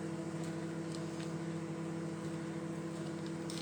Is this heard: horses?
no